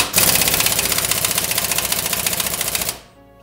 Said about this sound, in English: You have to get them off with an impact.